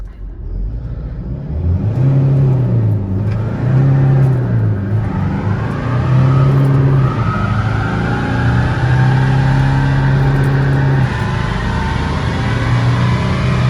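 A remapped car engine accelerates hard, its steady rising drone and harmonics climbing in pitch at high speed in sixth gear, loud and close throughout with no talking.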